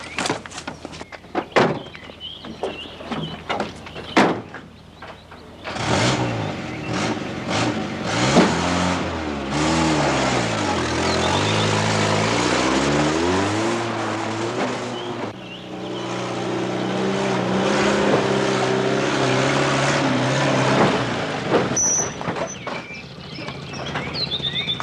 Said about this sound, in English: Jump in, we'll take the Land Rover.